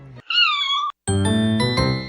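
Kittens on the back of a person in Camarines Norte give two clear meows, a rising-falling cry followed after a short gap by a fuller, longer one, close and alone.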